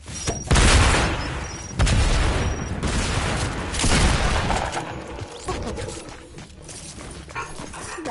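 Booming shotgun blasts in a video game, several heavy bursts at irregular intervals with fading tails, loud and close.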